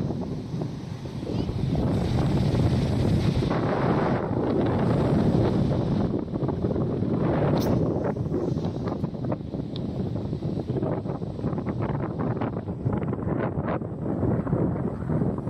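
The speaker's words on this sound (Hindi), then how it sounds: "तो ये बे ऑफ बंगाल है गाइस, बहुत अच्छी हवा चल रही है।" Strong wind buffets the microphone on the open sea-mouth beach where Chilika Lake meets the Bay of Bengal, a steady loud roar with a faint wash of surf beneath it.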